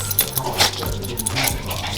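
A dog whimpers and whines softly nearby, with light jangling and shuffling sounds, no talking.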